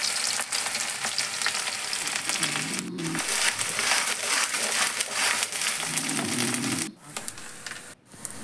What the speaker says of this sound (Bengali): তেলে প্রথমে রসুন আর আদা আর কাঁচা লঙ্কা দিয়ে দিলাম